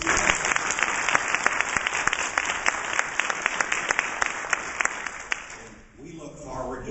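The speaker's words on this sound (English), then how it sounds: "Let's give them a round of applause." Applause at a community ceremony in Kentucky, a steady wash of clapping from a gathered audience that holds for several seconds before fading out.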